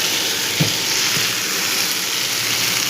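Water poured into a hot pan holding a few soybeans gives a steady, close hiss of sizzling and steam that runs evenly throughout, with a brief louder bubbling burst near the start.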